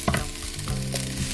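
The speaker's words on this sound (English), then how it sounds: "add the greens from your bowl. Keep frying. Okay, so now I add the noodles." Noodles and pak choy stir-fried in a hot pan, a close, loud sizzle broken by scraping and tossing sounds from stirring, with no voices.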